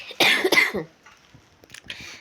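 Two sharp, close coughs in quick succession from a person with a cold and fever, followed by a quieter stretch with faint breathy sounds.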